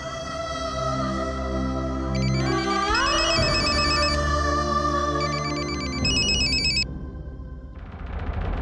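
A phone rings with a bright, melodic electronic ringtone that repeats its tune steadily for several seconds, loud and close, with no one talking over it.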